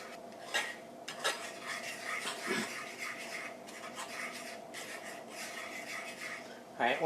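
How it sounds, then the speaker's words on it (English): A utensil scraping and stirring cheese into a sauce in a pan, with repeated small scrapes and clinks in an uneven rhythm, close and moderately quiet, with a faint voice now and then. "want to do small little stirs in order to get the cheese mixed in"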